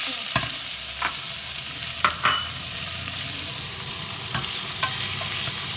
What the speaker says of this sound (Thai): เราต้องผัดหมู